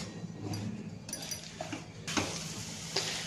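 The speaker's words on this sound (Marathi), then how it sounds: "आपलं हे जे मिश्रण आहे थोडंसं आपण परतून घेऊया" Sesame and jaggery mixture for tilgul vadi being sautéed over a low gas flame, giving a soft, steady sizzle with scraping stir sounds and a couple of sharper spoon knocks, close and moderately loud, with no talking.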